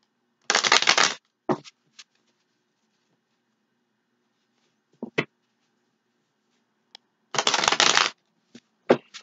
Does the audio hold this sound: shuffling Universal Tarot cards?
yes